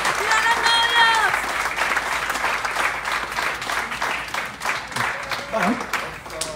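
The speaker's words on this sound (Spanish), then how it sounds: "Denle un aplauso a los novios." Wedding guests at a reception in California burst into sustained applause for the newlyweds, dense clapping and crowd noise filling the room, with a voice calling out over it.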